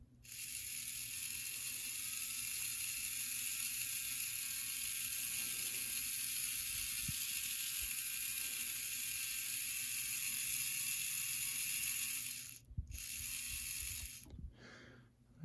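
Small electric motor and gears of a Bachmann E60CP model locomotive, repaired with a modified gear, running with a steady close mechanical whir and faint ratcheting clicks, slowing and stopping near the end.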